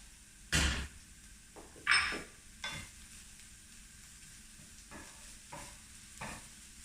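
Chinese sausages frying in a pan and releasing fat, a soft low sizzle punctuated by a few loud utensil clanks against the pan and lighter stirring scrapes.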